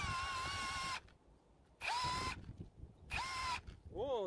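Kobalt and Ryobi cordless hammer drills with 6.0Ah high-output batteries boring holes, three loud close bursts of high whining motor with hammering rattle, separated by short quiet gaps, the last starting with a rising whine.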